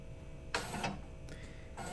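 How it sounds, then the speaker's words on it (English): A Zebra ZT411 industrial label printer runs just after being powered on. It gives short mechanical whirring and clicking bursts, close and fairly quiet, with no talking. "You hear that nice sound there of the printer going"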